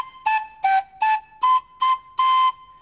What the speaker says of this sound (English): Listen to these panpipes.